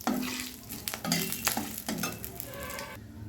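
Bay leaf, a dried red chili and whole garam masala fry in hot oil over a low-to-medium gas flame, a close sizzle with stirring scrapes and utensil taps against the pan.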